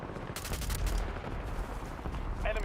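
Rapid assault rifle fire in Warzone, a dense burst of shots clustered near the start and then continuing steadily under game noise, loud and close.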